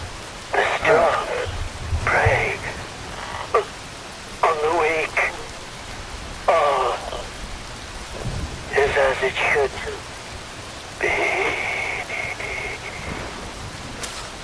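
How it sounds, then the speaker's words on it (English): A steady hiss of rain falls through a stormy scene in the Metal Gear Rising: Revengeance game, with voices talking over it in repeated bursts. "Wind blows, rain falls."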